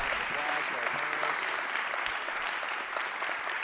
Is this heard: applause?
yes